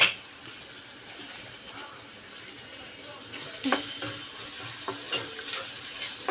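Capsicum and potato sauté in hot oil with red chili powder and garam masala, giving a soft, steady sizzle broken by a few brief spoon-and-pan clatters of stirring, moderately quiet and close.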